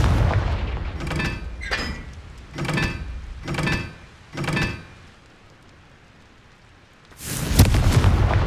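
A Confringo blasting spell in Hogwarts Legacy: a series of loud whooshing bursts in quick succession, a pause of near quiet, then one heavy booming explosion at close range, with no talking.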